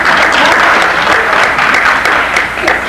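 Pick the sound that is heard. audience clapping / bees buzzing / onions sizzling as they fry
audience clapping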